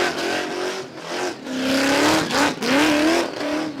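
A blown drag racing car engine revs hard at a raceway with loud rising and falling roars, surging twice with brief dips between, near and powerful.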